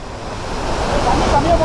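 Rushing water at Chilanthiyar waterfall in Vattavada, Kerala, a steady broadband roar that builds slightly over a couple of seconds, near and continuous.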